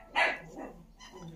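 A small black stray dog gives one sharp, close bark followed by a couple of softer, shorter yips, fairly quiet overall.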